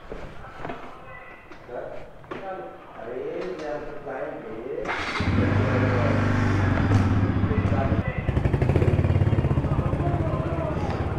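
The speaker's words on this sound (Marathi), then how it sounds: "बाईक आता कोल्ड स्टार्ट करू" A motorcycle is cold started on a morning ride from Pune toward the Ashtavinayak temples. Handling clatter and talk come first, then the engine catches midway and settles into a loud, steady idle close by.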